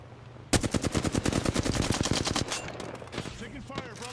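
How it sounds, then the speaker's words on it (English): Automatic gunfire in the Apex Legends video game bursts in suddenly as a rapid, loud string of shots for about two seconds, then trails off into scattered fainter shots and echoes. "Taking fire, brothers."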